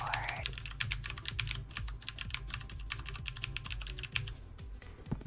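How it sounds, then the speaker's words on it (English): Rapid continuous typing on a gaming computer keyboard, dense clicky keystrokes rattling close up over a low steady hum, with no pauses across the whole stretch. "Or you can listen to more of the keyboard."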